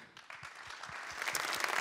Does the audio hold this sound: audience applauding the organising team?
yes